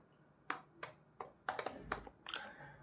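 Keys on a computer keyboard are tapped to type a short command, about a dozen crisp clicks in uneven bursts, close and clear in a quiet room with no talking.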